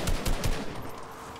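Gunfire in Fortnite strikes a moving car, a short rapid burst of several sharp shots up close, trailing off into engine and road noise.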